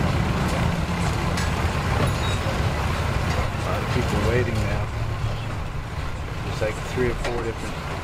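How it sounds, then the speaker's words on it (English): Trucks waiting at a boat ramp, their engines idling in a low continuous rumble close by, with brief voices breaking in over the steady drone. "Trucks sitting there waiting to get in."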